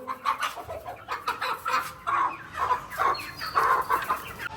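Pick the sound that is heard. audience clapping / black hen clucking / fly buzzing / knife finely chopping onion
black hen clucking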